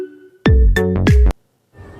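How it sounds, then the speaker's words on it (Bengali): Mobile phone ringtone plays a short, loud, close melodic burst of sweeping tones, lasting about a second before it cuts off into near silence. "কি ব্যাপার এই সময় আবার কেটে ফোন দিল?"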